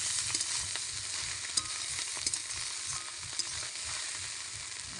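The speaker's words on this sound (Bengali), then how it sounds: "দিয়ে একটু নাড়াচাড়া করে নেওয়া হচ্ছে।" Egg bhujia with sugar and chopped coriander stirred in a hot pan, a steady sizzle with repeated scraping strokes of the spoon, close and continuous.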